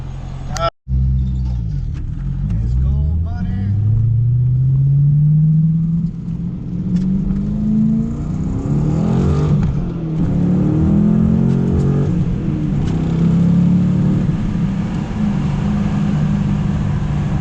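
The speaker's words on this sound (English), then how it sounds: "You gotta hear this thing under the overpass right now" A car engine revs hard while driving under a highway overpass, the loud roar climbing steadily in pitch through the gears, echoing off concrete, with a brief dropout early on and a voice talking over it.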